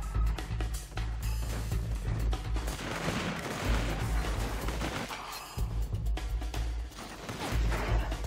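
Dense, rumbling gunfire and explosive bursts in inFAMOUS 2, a continuous heavy barrage with low booming weight and a brief lull midway.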